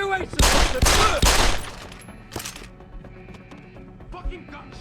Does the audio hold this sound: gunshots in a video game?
yes